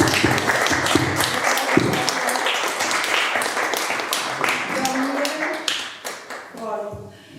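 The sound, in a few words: audience clapping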